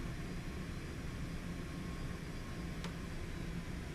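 Cessna Citation X business jet taxiing with its engines running, a steady, fairly faint broadband jet whine and roar heard from inside the cabin, with no talking.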